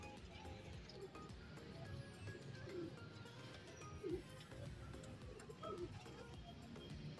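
Racing pigeons cooing in a loft, soft repeated low coos at intervals over a busy background of rustling and outdoor noise, with occasional brief chirps.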